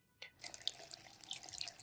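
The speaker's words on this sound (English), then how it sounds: "Now I'm going to fill these two glasses." Water poured from above into two drinking glasses: a steady, fairly quiet splashing stream begins after a short silence and runs on evenly to the end.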